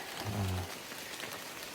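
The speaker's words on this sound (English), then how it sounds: "We just left the shelter and it's raining." Steady rain patters on the surroundings along a wilderness hiking trail, a dense, even hiss with no voices.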